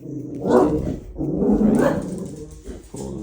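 A dog barks and grumbles close by in two loud outbursts, with a few faint yips, while a person counts aloud under the noise.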